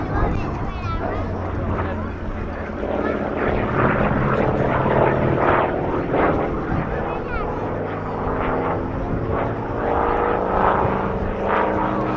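Aircraft fly an air display at the RAF Cosford Airshow, a loud continuous engine and propeller drone washing over the crowd throughout, with a public-address announcer talking over it.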